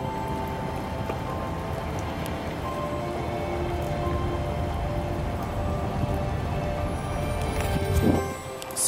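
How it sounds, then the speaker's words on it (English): Steady rain falls on a city street in Oslo at Christmas time, a dense, even patter on wet pavement throughout, with a few faint passing sounds and a brief rustle near the end. "It's a very rainy Oslo."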